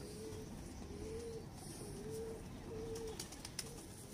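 A pigeon coos in a steady repeating series of soft, low calls, about four or five in a row. Close but quiet, with faint background hiss and occasional small clicks.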